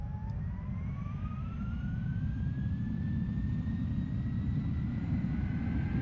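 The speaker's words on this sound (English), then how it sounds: "Definitely hear the engines now." MD-11 jet engines spool up for takeoff in the flight simulator FSX, a loud, steady roar with a slowly rising whine sweeping upward, continuous and close throughout.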